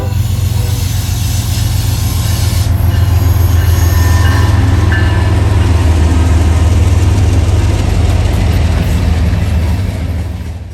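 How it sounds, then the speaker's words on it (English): Norfolk Southern freight train NS 171 rolls past westbound with a loud, steady low engine rumble, continuous clattering wheels and occasional squeal, close and sustained throughout. "We move over there to catch NS 171 heading westbound."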